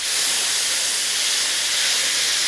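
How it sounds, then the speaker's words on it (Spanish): A dried ñora chili sautés in warm oil for a rabbit and snail paella, giving a loud, close, unbroken hiss of sizzling with no talk. "Vamos sofriendo lentamente y ponemos una ñora"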